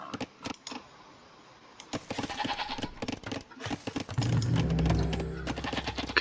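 Sheep bleating in the Age of Empires 2 strategy game, several short bleats over game background sounds, with a louder burst of mixed game noise toward the end.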